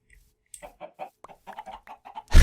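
Chickens in a modded Minecraft game clucking in a quick run of short, close bursts, one after another, ending in a louder abrupt thump.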